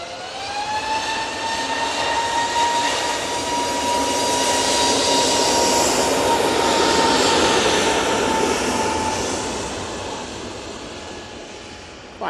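Airbus A320neo departing Manchester Airport, with strong jet roar and distinct whining engine tones that swell toward the middle and fade near the end, unaccompanied by speech.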